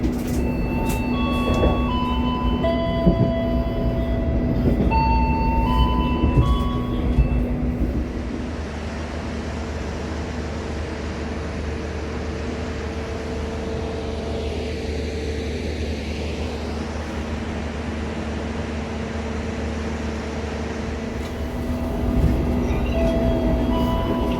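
Continuous rumble and clatter of an Indonesian passenger train rolling on rails, heard from inside, with a steady hum that eases into a quieter drone midway.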